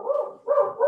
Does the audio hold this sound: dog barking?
yes